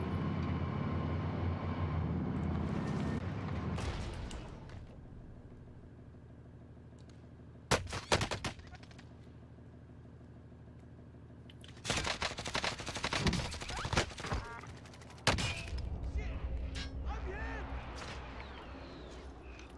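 Gunfire from an enemy shooter in Call of Duty, with bursts of rapid shots arriving in separate clusters between quieter stretches. A loud rumbling passage comes first, and sharp close reports return several times.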